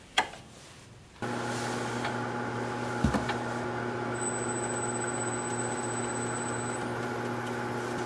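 A wood lathe turns a mounted elephant foot bowl blank at about 430 RPM, giving a steady, even motor hum with a low drone that holds throughout after it starts up.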